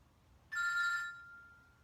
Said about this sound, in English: That's my husband's phone going off.